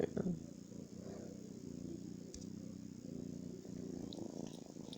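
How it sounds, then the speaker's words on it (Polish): A domestic cat purrs indoors as a low, continuous rumbling close by, faint and steady like soft wind noise, with no talk over it. "jakbyście słyszeli taki jakby wiatr, ale to kot mruczy"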